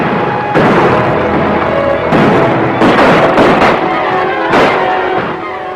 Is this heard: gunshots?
yes